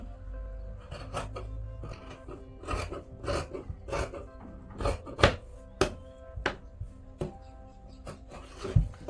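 Scissors cutting marked blouse fabric pieces, an irregular series of crisp snips and rustling slides, close and fairly quiet, with pauses between cuts.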